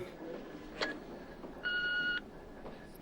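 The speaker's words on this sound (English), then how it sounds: "She rang the flat but got the answering machine." An answering machine sounds its beep after a phone call: one steady electronic tone of about half a second, heard fairly faintly over a quiet indoor background with a brief click just before it.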